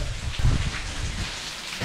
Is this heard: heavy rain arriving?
yes